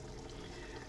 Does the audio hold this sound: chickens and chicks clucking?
no